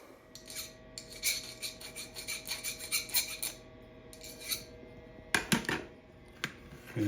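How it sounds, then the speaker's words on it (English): A metal lathe parting off a small workpiece with the cutting tool, giving a steady scraping, rasping chatter with rhythmic pulses, then a few sharper clanks near the end, close and moderately quiet. "now I'm going to part that off of there, make it about 300 thousandths long"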